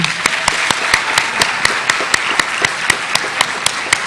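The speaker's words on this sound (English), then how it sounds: "Please help me recognize and applaud Coach Kelly for all of her accomplishments." An audience applauds Coach Kelly at a Lawrence County sports awards and recognition ceremony, with crisp claps falling in a steady, evenly spaced rhythm that holds at the same loudness throughout.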